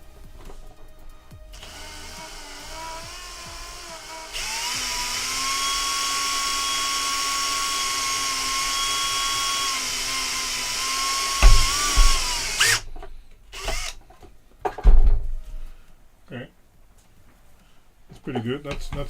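A step drill bit bores a hole through a box for outdoor cable, whining in a long steady drone that stops abruptly, followed by clunks, handling noises and a voice talking.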